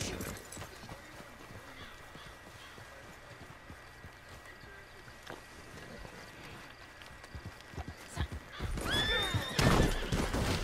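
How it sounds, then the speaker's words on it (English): Horse neighing and clip-clopping hooves in a video game, steady hoofbeats running throughout, then a loud, close whinny near the end. "Pretty sturdy horse you got."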